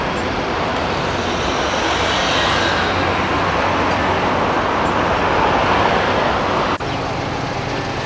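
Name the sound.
busy road traffic in Macau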